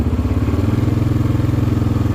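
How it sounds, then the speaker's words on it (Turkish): A CFMoto CForce 550 ATV engine idles steadily after a drive belt replacement, a close, even low thrum with a regular pulsing beat that runs throughout with no voices. "Gördüğünüz gibi Rölantideyiz şu anda."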